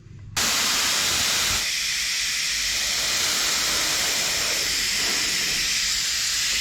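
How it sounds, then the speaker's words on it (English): An airbrush lays a white base coat onto a demolition derby car rim: a sudden start of continuous, close, airy spray hiss that runs evenly with slight shifts in pressure. "We're using the airbrush here and just kind of layering on."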